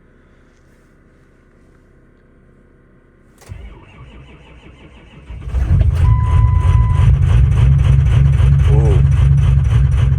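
A 2004 Ford F-250 with a 6.0 Power Stroke diesel, stock turbo, 3-inch downpipe and 5-inch straight pipe cranks and fires on a freezing cold start, settling into a loud, rough, rumbling idle; a brief exclamation is heard.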